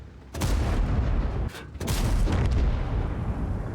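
Two tank gun shots ring out in World of Tanks a little over a second apart, each a loud, close boom, followed by a rolling low rumble of battle ambience.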